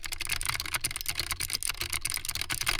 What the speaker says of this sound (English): Unfortunately, we have one of these guys, a mechanical keyboard.